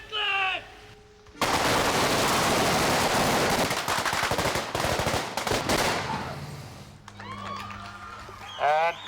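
Rapid gunfire bursts from a film scene in which Strickland, in armor with a shotgun, shoots at kids driving past a house; loud dense volleys dominate the middle, with brief voices and shouts before and after.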